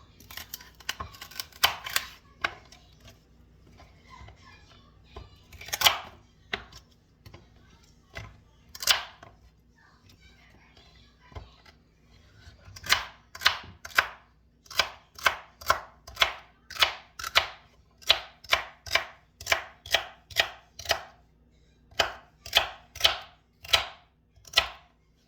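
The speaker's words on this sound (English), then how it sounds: "we're gonna chop up some celery and some carrots" Knife chopping celery and carrots on a board, in two brief bursts and then a long steady run of crisp, evenly spaced chops, close and clear with no talking.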